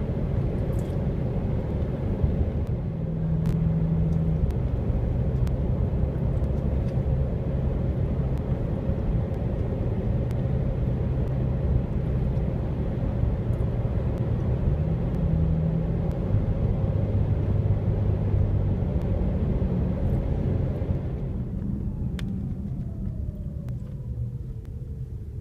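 A car driving on coastal highway US 101 at Last Chance Grade, a steady close road and engine rumble with tire noise that drops away near the end.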